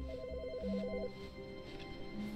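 A telephone rings in the video game The Stanley Parable: Ultra Deluxe, a warbling electronic trill pulsing rapidly for about a second, fairly faint against a quiet background hum.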